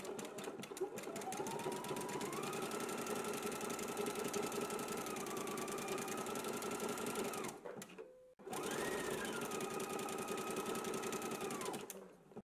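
A sewing machine runs a zigzag stitch along a tie in two long continuous bursts, a steady close mechanical whir with rapid needle ticking that pauses briefly in between.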